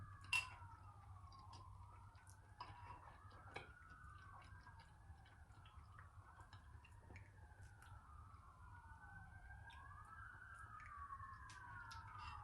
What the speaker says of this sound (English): Excuse the sirens if y'all hear them.